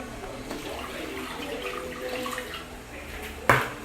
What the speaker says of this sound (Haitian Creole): OK, je vais mettre de l'eau là-dedans.